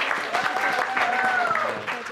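An audience claps together at a quiz game show, a dense and continuous patter over a couple of seconds with no talk.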